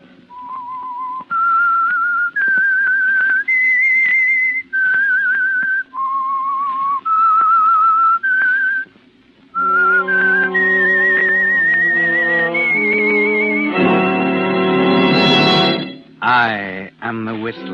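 A melodic whistled tune rises step by step in clear sustained notes, then gives way to a brief loud orchestral swell near the end.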